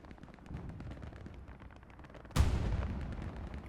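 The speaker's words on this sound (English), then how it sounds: "Artillery's falling around the hard cap." An artillery shell explodes with a sudden heavy boom and a rumbling tail in Hell Let Loose, set on the Stalingrad map, over a steady background of distant battle noise.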